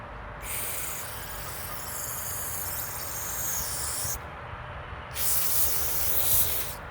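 Two bursts of hissing aerosol spray on an old tiller engine, the first lasting several seconds, a brief pause, then a second louder blast, heard up close over a low background hum.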